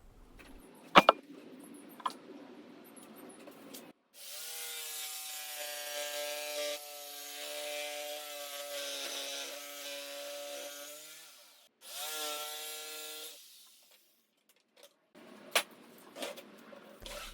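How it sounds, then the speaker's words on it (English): A jigsaw cuts through wood protected with painter's tape in a workshop, a long steady buzzing cut followed by a shorter second burst, loud and close, with brief clatters before and after. "make sure that it doesn't get too bad when I cut this with the jigsaw"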